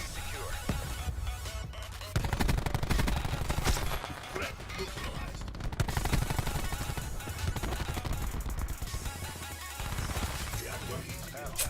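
Gunfire in a shooter video game, dense overlapping shots and impacts in a loud, busy battle mix, with people talking over the action.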